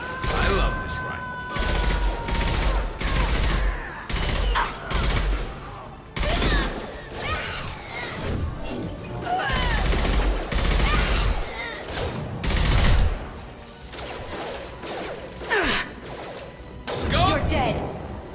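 Rifle fire in the sci-fi shooter Mass Effect 2 rings out in repeated sharp bursts and booming volleys with brief pauses, loud and close, while a player talks between shots.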